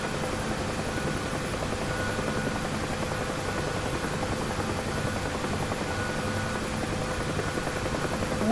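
A UH-1H Huey helicopter in the DCS flight simulator taxis to parking, its rotor and turbine making a steady, dense, loud drone with a fine rapid blade chop throughout, unchanging and with no voices.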